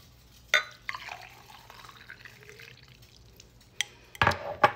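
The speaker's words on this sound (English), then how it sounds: "add it to our cup. I want that other cup, but we'll add it to here. My little astronaut cup, and pour hot water over it." Hot water poured into a cup over a tea bag, heard as short splashing bursts and drips, with a louder trickling fill near the end in a quiet kitchen.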